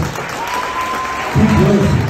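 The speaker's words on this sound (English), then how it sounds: "give this man a big round of applause" A stretch of room noise breaks into a short burst of applause from a crowd near the end.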